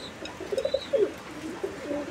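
Pigeons kept in a breeder's loft, some with young, coo in a short run of soft, low, pulsing calls, near and gentle, over a faint background hum.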